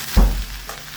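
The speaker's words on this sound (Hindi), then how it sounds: "और भिंडी को थोड़ा सा हाई पे ही स्टार्टिंग में भून लेंगे" Okra (bhindi) frying over high heat in a home kitchen pan, a brief loud hiss and stir at the start that settles into a steady soft sizzle.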